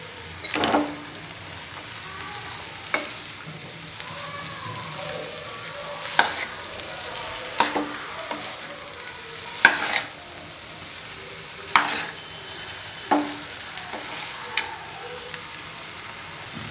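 Spicy potato and legume masala with lemon juice and coriander is stirred in a pan, with sharp spoon scrapes every couple of seconds over a faint, steady sizzle.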